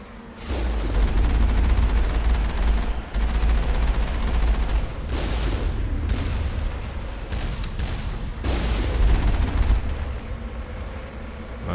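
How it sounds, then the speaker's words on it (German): Gunfire from enemy attackers in the Mass Effect video game: heavy, near-constant bursts and booming shots fill the scene at high volume, with brief lulls between volleys and almost no talking. "Oh, wir werden jetzt schon beschossen"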